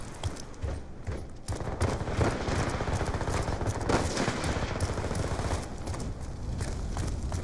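Rapid video game gunfire rattles in dense, continuous automatic bursts, loud and close, running the full length with no clear break.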